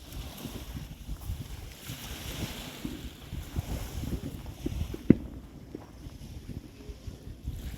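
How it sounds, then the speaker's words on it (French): Steady wind buffets the microphone in low rumbling gusts, with a faint wash of water and one sharp knock partway through. "Pas facile, hein, en plus il y a du vent."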